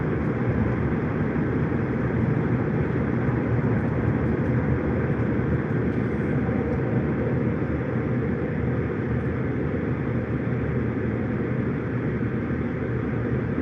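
A loud, continuous low rumble of a passing train, steady and unbroken throughout, with no voices.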